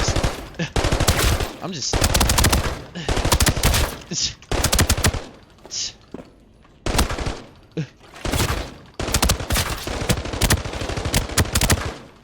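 Bursts of automatic AUG rifle fire loaded with 30-round magazines in the shooter game Arena Breakout, loud rapid volleys in several bursts with short pauses, and a voice briefly speaking between them.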